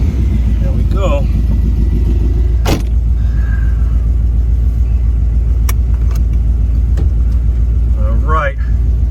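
A 1969 Corvette rumbles along the road with a low, steady engine drone filling the cabin, punctuated by a few sharp clicks and knocks, while someone talks over the sound.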